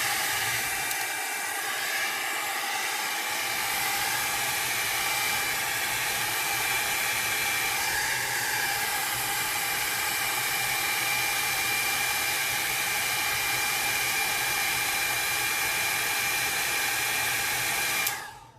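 A hair dryer blows steadily to dry alcohol ink on a ceramic tile, a loud, constant close-up rushing whoosh that holds for the whole stretch before cutting off abruptly at the end.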